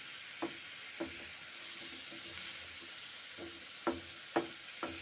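Semolina with curd and a splash of water cooking in a pan, a quiet steady sizzle punctuated by light spoon taps against the pan, several of them clustered toward the end.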